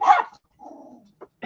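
A puppy and older dogs bark close by: a sharp bark, then a lower drawn-out growling bark, then a brief yip at the end.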